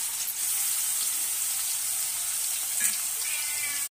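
Grated, blended onion fries in a pan for a bottle gourd kofta curry, a continuous, even sizzle with a soft hiss, close and steady from start to finish, with no voices.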